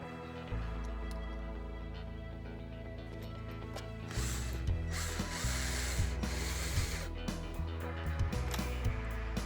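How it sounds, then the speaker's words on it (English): Bolts being fastened into a replacement gearbox on an MGI Navigator Quad Gyro, a close, steady ratcheting with repeated clicking and mechanical rubbing that grows busier in the second half. "And fastening with 3 bolts"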